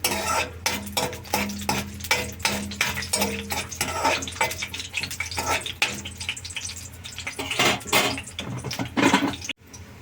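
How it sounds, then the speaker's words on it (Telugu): Cashews being fried and stirred in a pan, giving a busy run of close, rhythmic scraping and clinking strokes with a soft sizzle beneath, steady throughout with a brief drop near the end. "కొన్ని జీడిపప్పులు, కొంచెం వేగనిద్దాం వీటిని"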